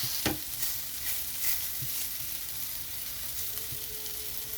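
Potato and papaya frying in very little oil, spread across the sides of a kadhai over a raised gas flame. A faint, steady sizzle runs throughout, with a couple of light clicks of a utensil near the start.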